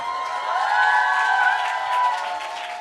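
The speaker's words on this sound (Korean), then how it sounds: "자, 여러분 다시 한번 박수." A crowd cheers and applauds at a Korean event, with a swell of voices and whoops riding over scattered clapping, loud and lively for a few seconds before easing off.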